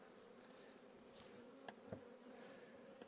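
Honey bees inside a strong beehive colony in early March: a steady, faint, low buzzing hum throughout, with a few brief clicks and small knocks over it.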